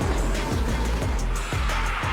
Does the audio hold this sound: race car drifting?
yes